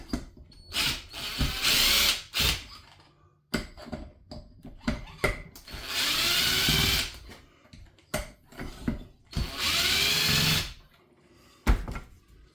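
A driver bit turns out oily, sawdust-caked screws while a Red Lever 064 chainsaw is taken apart, with bursts of whirring motor and ratcheting clicks broken by short pauses, all close by.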